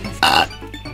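A single short, loud burp bursts out and fades within a quarter second, with only faint background noise around it.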